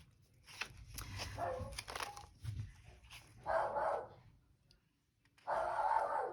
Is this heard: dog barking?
yes